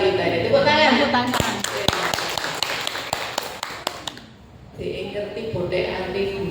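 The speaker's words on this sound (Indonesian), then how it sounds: "Tepuk tangan." Clapping at a community outreach session on the dangers of online gambling and loans in Gresik, heard as a run of distinct separate claps amid chatter and voices, fading to a quiet gap before talk resumes.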